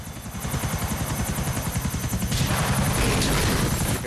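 Helicopter in the GTA video game, a steady loud rotor thump with a continuous engine whine throughout, growing slightly louder in the second half, no talk over it.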